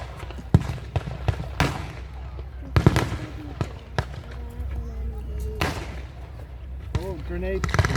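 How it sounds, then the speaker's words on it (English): A WW2-era MG42 machine gun fires blanks at an outdoor battle reenactment, heard as sharp, booming cracks and short bursts spread through the clip, with voices talking over steady crowd and field background noise. "Now listen to the cyclic rate of that MG42. That delivered so many rounds so quickly."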